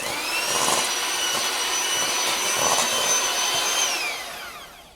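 An electric mixer whirs steadily on low speed, beating eggs into cake batter for a pear, raisin and almond cake, then winds down near the end; close and continuous, with no talking.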